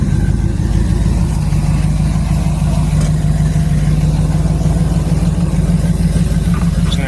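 An old hot rod that sat unused since the pandemic idles steadily at close range, a low, even engine rumble with a faint lope, running alone with no voices throughout.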